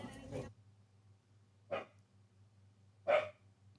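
A dog named Archie barks twice, sharp single yaps spaced more than a second apart, at moderate distance in a quiet room, following a brief moment of talk.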